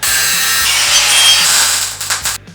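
Loud, steady grinding of a power saw cutting through the metal exhaust pipe of a 2000 Jeep Cherokee, with a rhythmic low thumping underneath, ending in a few rough bursts before stopping.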